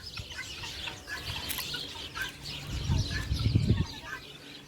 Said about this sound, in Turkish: Yuvasından kaçan tavuklar.